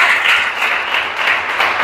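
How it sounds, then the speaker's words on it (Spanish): A church congregation applauds together, a dense, loud, steady wash of many hands clapping that fills the room without any voices. "Démosle un fuerte aplauso a nuestro Dios en esta oportunidad."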